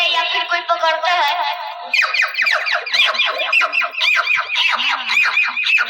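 A child mimics a hen squawking as it is caught, a loud run of sustained calls giving way to rapid, jerky, repeated squawks that fill the whole stretch at close range.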